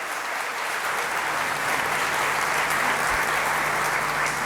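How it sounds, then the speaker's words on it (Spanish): An auditorium audience gives a sustained round of applause, a dense, even wash of many hands clapping at once that holds steady from start to finish. "un gran aplauso, un gran saludo para él"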